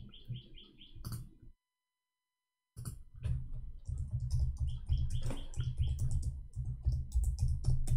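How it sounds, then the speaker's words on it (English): Keys clatter on a computer keyboard in quick, irregular bursts, broken by a pause of silence, with faint chirping tones mixed in and no talking. "I was typing in Arabic."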